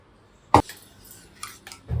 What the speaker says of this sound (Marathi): पूर्णपणे थंड करण्यासाठी मी आता ढवळतोय आहे